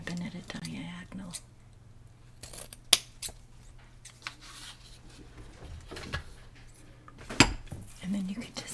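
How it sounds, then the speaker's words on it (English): Scissors snipping ribbon at a diagonal during an Easter hair-styling session, sharp close snips and clinks scattered among soft handling rustles and quiet whispered talk. "I always cut my ribbon at a diagonal"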